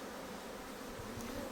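Bees hum steadily at close range around a beekeeper handling a hive, with a continuous droning buzz and no talking.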